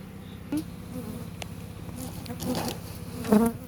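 Honeybees buzz at the hive in a dense, steady drone close by, with a few louder passes as individual insects fly near. No one speaks.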